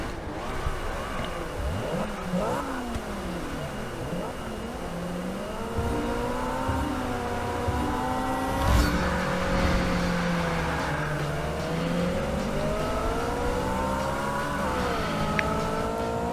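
A Honda CRX front-wheel-drive B-class car races at Laguna Seca in Forza Motorsport 6, its engine whining steadily and rising and falling through gear changes, loud and continuous without talk.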